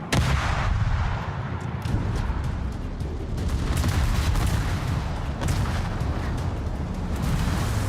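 Naval guns fire in World of Warships, booming over and over in a dense, continuous barrage of heavy blasts and rumbling explosions that fill the whole stretch without any talk.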